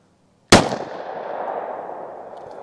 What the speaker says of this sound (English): The plus P HST 124 grainers. I'm gonna do 3 rounds of these also.